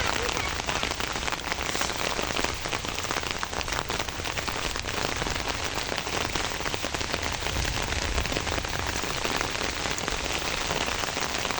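Steady, dense rain pours down over a flooded sugarcane field area near a village mosque, a loud continuous hiss of drops hitting water and surfaces with no voices.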